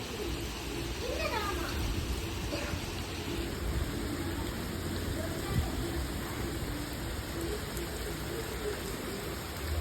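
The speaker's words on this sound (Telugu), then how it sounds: "ప్రజెంట్ మదనపల్లిలో భారీ వర్షం అయితే పడుతుందండి." Heavy rain falls steadily in Madanapalle, a continuous dense wash of drops that holds at the same loudness throughout, with birds cooing faintly behind it.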